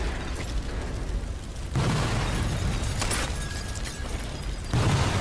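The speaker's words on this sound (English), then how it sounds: "Cause a chain reaction with the explosions." Heavy booming bursts from chained explosions in the video game Sniper Elite 4 hit in succession, each dropping into a dense rumbling roar, loud and close, with no talking.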